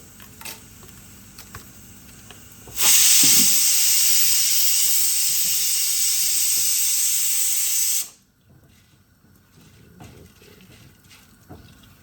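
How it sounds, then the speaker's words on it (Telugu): Dry red chillies added to dal frying in a tempering, a sudden loud hiss that holds steady for several seconds and then cuts off, with quieter kitchen sounds before and after. "సో పప్పు బాగా వేగిపోయిన తర్వాత ఒక 4 ఎండుమిరపకాయలు"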